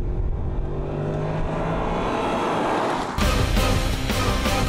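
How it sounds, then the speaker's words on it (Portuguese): An Audi S6 engine revs hard under acceleration, a loud rising roar that builds steadily, then a sudden shift to a harsher, rougher blast near the end, with no voices. "foi fácil perceber como o ronco do motor vai além na sensação de velocidade"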